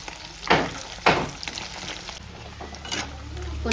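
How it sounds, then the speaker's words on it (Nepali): Paneer fries in a pan with a soft continuous sizzle, broken by a few louder stirring scrapes, heard up close in a home kitchen. "पनिर फ्राई हुँदैछ।"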